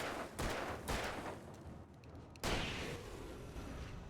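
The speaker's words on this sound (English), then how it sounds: "Right, I have a shotgun." Shotgun blasts from the Alan Wake video game, a few heavy booming shots spaced apart, loud and close against a busy in-game background.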